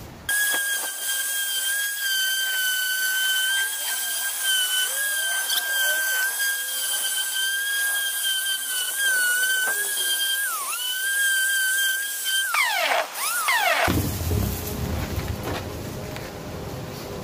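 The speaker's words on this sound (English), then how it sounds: "I'm going to use a power sander" Power sander working on a fiberglass mannequin: a high, steady whine with slight pitch wobbles, running loud for about twelve seconds, then swooping down as it spins off into a rougher grinding, scraping texture, with no talk.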